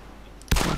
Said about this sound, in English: If you hear gunshots going off, that's me trying to kill a zombie.